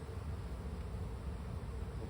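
Honey bees drone in a steady, close buzz around a Layens hive during an inspection, with no break and no talking.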